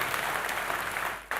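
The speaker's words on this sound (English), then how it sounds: "Let's give a big round of applause to the Mercedes team." An audience at a technology showcase applauds the Mercedes team with dense, continuous clapping for just over a second before a sharp cutoff.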